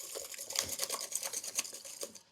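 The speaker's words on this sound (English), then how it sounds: "Wanna use a good balloon whisk for this." A balloon whisk beats eggs and sugar in a bowl, a quiet run of rapid rhythmic ticking strokes close by with no voices.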